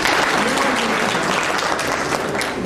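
An audience at a talk in Sivas bursts into applause, a dense, continuous wash of clapping that stays loud and even for the whole stretch, with no one speaking over it.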